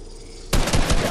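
Gunfire in Fortnite bursts in abruptly after a quiet moment, loud and close, a rapid string of shots that runs to the end.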